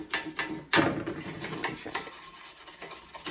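A fingernail scrapes cooked-on residue off a Ninja Foodi grill, giving quiet, close rasping strokes in an uneven rhythm, with one sharper scrape near the start.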